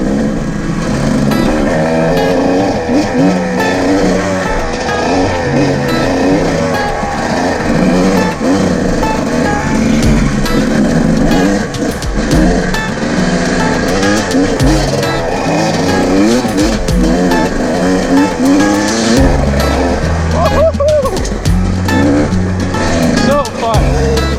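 Dirt bike engine while riding alone on a silty, slick trail, a loud close engine drone rising and falling steadily with throttle changes and wind noise throughout.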